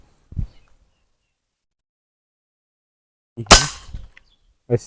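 A sharp, loud gunshot fired at a dove cracks out of near silence, echoing briefly, with a softer thump before it and another short bang at the end.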